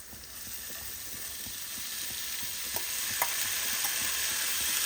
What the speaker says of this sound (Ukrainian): беремо капусточку і також її на сковорідку